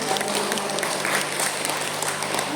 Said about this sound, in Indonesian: Itu semuanya tepuk tangan.